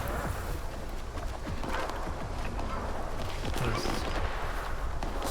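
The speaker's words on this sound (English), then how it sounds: "some gunfire off in the distance there." Scattered gunshots crack and pop in the distance during S.T.A.L.K.E.R. 2 gameplay, irregular faint bursts over a busy background of footsteps and ambient game noise, with no speech.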